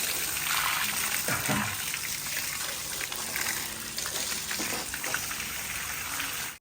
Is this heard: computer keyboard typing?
no